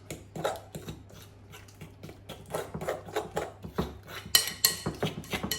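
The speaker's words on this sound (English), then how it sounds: "And into that we crack our egg. In she goes. And then give that a good old mix." Egg being mixed into stringy cheese in a bowl for a low-carb pizza base, a rapid series of close utensil clicks and scrapes against the bowl, growing busier and louder toward the end, with no talk.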